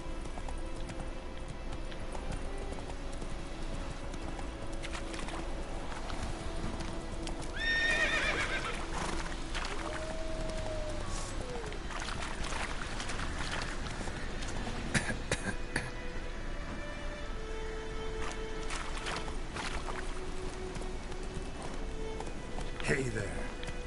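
Roach the horse in The Witcher 3, a steady clip-clop of hooves with a loud neighing whinny partway through, game ambience behind and someone talking at times over it.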